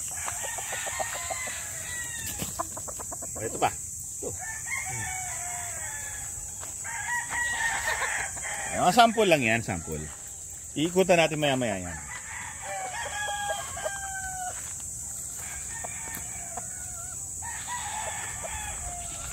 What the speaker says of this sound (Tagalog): Titignan na natin yung mga alagang mga manok.